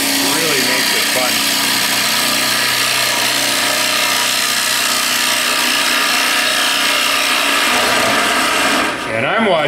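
A carbide hollowing tool cuts the inside of a wooden bowl on a wood lathe, a steady close scraping whir that runs the whole time without chatter before briefly dipping near the end.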